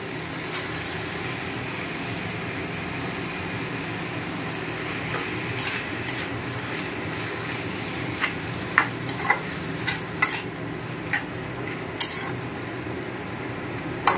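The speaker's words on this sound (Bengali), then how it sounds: "দেখো এখানে মশলাটা পুরো কষানো হয়ে গেছে, তেল ছেড়ে দিয়েছে। এর মধ্যে আমি এই মাংসটা দিয়ে দিচ্ছি।" Chicken pieces drop into a pan of spice paste that has been fried until the oil separates, then get stirred, giving a steady low sizzle with scattered scraping clicks from the spoon.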